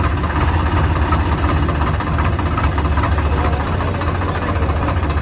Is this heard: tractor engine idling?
yes